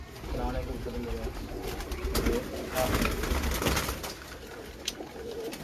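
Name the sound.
Sialkoti pigeons cooing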